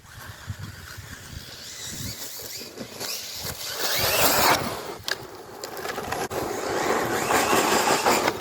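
An Arrma Typhon RC buggy drives over rough ground, its small electric motor whining and rising in bursts while the tires crunch and scrape, growing louder as it nears, with no voices.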